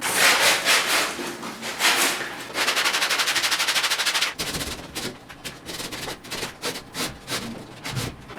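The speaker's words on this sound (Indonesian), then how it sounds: "Kalau ngamplas gipsum pakai masker ya" Sandpaper scrubbing a gypsum ceiling patch, with loud, close back-and-forth scraping strokes that quicken into a rapid, rasping rhythm and then break into shorter, separate rubs.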